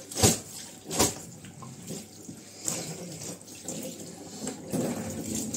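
Hot water from a small 3-litre geyser runs from a kitchen tap into a sink basin being cleaned after dishwashing, with close splashes, several sharp bursts, and a steady trickling flow.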